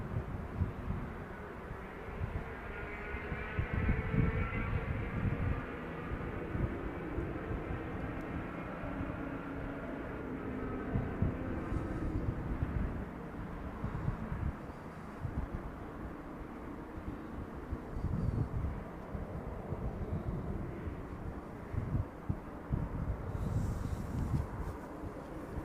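F-35 fighter jets flying at night near RAF Lakenheath, heard from a distance as a sustained low roar with a rising whine early on, steady and broad without voices.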